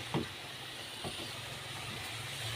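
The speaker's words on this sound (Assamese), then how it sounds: "এতিয়া নাৰিকল ভাজি আছে" Coconut fries in a pan, a quiet continuous hiss with a couple of brief clicks, nearby and without voices.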